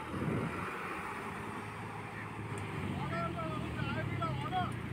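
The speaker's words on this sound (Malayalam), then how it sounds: "വേറെ എഞ്ചിന് സ്റ്റാർട്ടാക്കിയിട്ടുണ്ട്." A fishing boat engine drones steadily close by on a beach during net fishing, a continuous low hum with wind noise, while voices talk and call over it.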